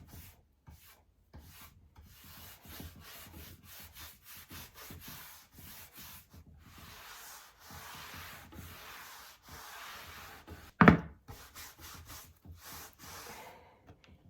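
A cloth rubs dark wax onto a wooden side table in quiet repeated strokes, soft brushing swipes with short pauses and one sharp knock partway through.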